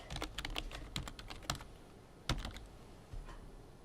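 Quiet, intermittent typing on a computer keyboard, with scattered clicks and short bursts of keystrokes spread unevenly across a few seconds, no one speaking.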